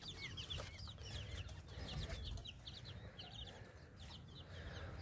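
Young chicks let out of their cage, with steady soft clucking and chirping from a flock of fowl against continuous low background noise in a hot outdoor setting.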